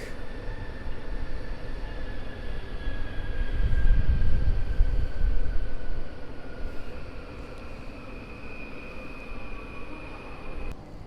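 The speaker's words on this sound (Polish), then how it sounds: "widoczny tutaj skład z Terespola, który wjeżdża na tor 10 przy peronie czwartym i kończy bieg" A train from Terespol rolls into platform four at Warszawa Zachodnia at night, a low rumble swelling in the middle and then easing off, with a thin steady whine above and broad station noise around it.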